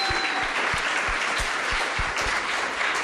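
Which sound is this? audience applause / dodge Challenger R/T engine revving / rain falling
audience applause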